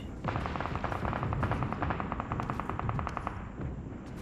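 Gunfire in a video game, with a rapid automatic burst of evenly spaced shots, loud and sustained for a few seconds over a dense rumbling background.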